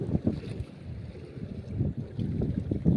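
Strong wind at sea buffets a fishing boat, heard as low, gusty rumbles and bursts of wind noise hitting the microphone in uneven pulses.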